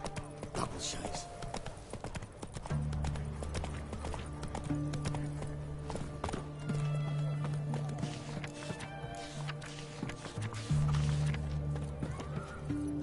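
Roach, Geralt's horse in The Witcher 3, gallops with rapid rhythmic hoofbeats and lets out whinnies, accompanied by game music and someone talking over it.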